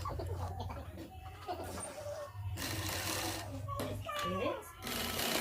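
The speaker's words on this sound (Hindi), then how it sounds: "3 से 4 सिलाई आपको यहाँ पर लगानी, ताकि इलास्टिक अच्छे से पक्की हो जाए।" A sewing machine runs steadily while stitching elastic onto a pajama, a close, continuous buzzing whir that pauses briefly between runs, with someone speaking Hindi over it.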